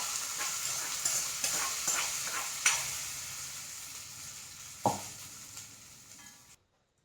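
Hot tempering poured into papaya pachadi, giving a soft sizzle and spluttering with a few sharp pops and one clear splash near the end, fairly quiet and close, with no talking.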